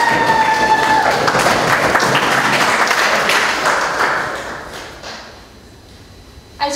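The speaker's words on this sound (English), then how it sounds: "So let's give him a round of applause for that." Wedding guests at Castlegate in St. Augustine, Florida give a lively round of applause that swells, then gradually fades over several seconds, thinning to a few scattered claps, with a voice briefly rising near the end.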